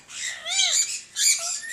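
Ring-necked parakeets at a Sunday bird market in Rasheedabad, Multan, give two loud, harsh squawks close by, the first a rising-and-falling screech and the second a shorter burst after a brief gap.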